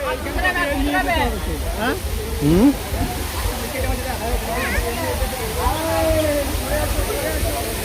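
Waterfall pouring with a steady, broad rushing roar that runs unbroken throughout, with people talking and calling over it nearby.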